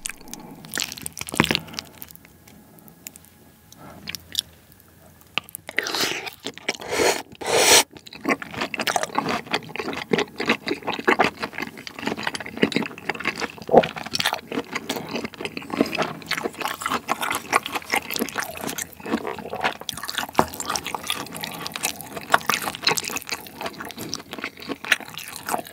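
Pork curry rice with whole pork neck and paprika is mixed and eaten up close, with wet smacking chews, crunchy bites and scraping of spoon against the bowl in a dense, continuous run.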